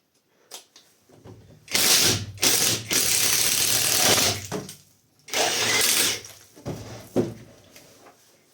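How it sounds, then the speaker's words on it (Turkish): A Catpower 4226 cordless driver bores a 35 mm bit through wood, with loud bursts of grinding and ratcheting as the bit bogs in packed chips, separated by short pauses. "35 milimle bu ağacın içinden geçtik."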